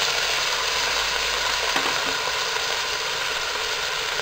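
Moong dal and rice are stirred in a pan, giving a soft scrape or two partway through over a steady broadband hiss and hum that fills the background.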